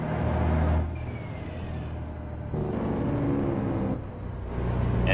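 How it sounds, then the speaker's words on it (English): A custom Peterbilt truck in American Truck Simulator runs its engine brake, a loud, rumbling engine note that swells and drops in bursts, with a high whining tone rising and falling over it. "Engine brake sounds about the same."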